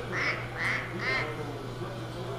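A child imitates a duck with three quick nasal quacks in a row, fairly close and clear, followed by a low background hum.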